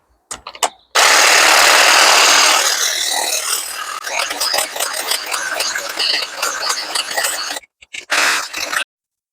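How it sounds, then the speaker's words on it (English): Powered shears trim Goldcrest conifers up close, a loud continuous buzzing motor kicking in after a second, then turning choppy and rattly with cutting for several seconds before cutting out, with a brief burst near the end and no talk. "So a really nice quick job that was just trimming back the Goldcrest conifers"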